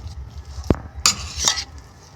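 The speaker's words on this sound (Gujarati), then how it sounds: "હવે આ માવાને બરાબર મિક્સ કરી દઈશું." Potato mash being mixed in a pan, a dull thump followed by a couple of sharp scraping clinks of a utensil against the metal, close and brief.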